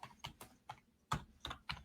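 Someone types on a computer keyboard in short bursts of close, crisp keystrokes with uneven gaps, and no one speaks.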